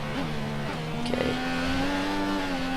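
A Formula 1 car from the F1 2014 video game holds full throttle, its engine a sustained high whine that rises in pitch after a brief dip during a shift, steady and loud with no talk.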